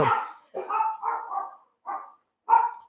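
Dogs bark indoors in a series of about six loud, close woofs, the first long and the rest short and spaced at irregular intervals with silence between.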